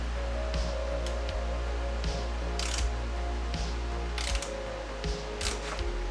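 Jackson Racing oil cooler plate being tightened on a Scion FRS, a series of close ratchet clicks in short repeated bursts over a steady background hum, with no talk.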